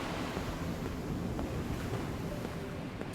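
Turbulent ocean waves washing against a ship in the video game Nier Reincarnation, a continuous faint roar of surf and wind, steady and distant with no distinct breaks.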